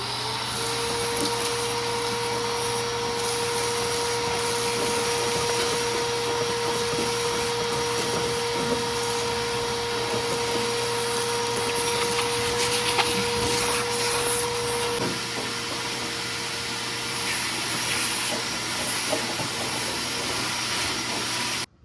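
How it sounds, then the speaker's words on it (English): A vacuum cleaner runs steadily inside a Fox body car, sucking up debris from a rotted interior with a constant loud roar and a high whine for about twenty seconds, alone, before cutting off abruptly. "I want to vacuum this up and see how bad the rot really is"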